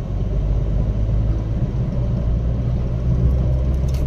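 Inside an automatic Maruti WagonR on the move, a steady, loud low engine and road rumble holds throughout with no clear break, and no one speaks.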